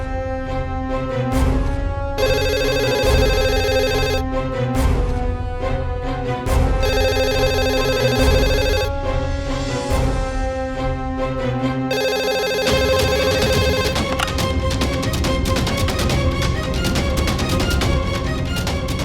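A telephone rings in a house during a Hindi crime drama, its electronic ring coming in repeated, evenly spaced bursts, loud and steady over a continuous musical background.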